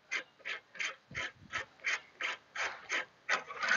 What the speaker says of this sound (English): So I'll undo the handle.